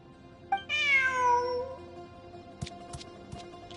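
Cat in the video game Genshin Impact lets out one clear, drawn-out meow, followed by a few soft clicks and taps, with no talking.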